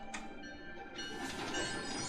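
A train pulls into a station in an animated show, a steady rumble with a sharp burst near the start and a broader rush of wheel and carriage noise building midway, with no talking.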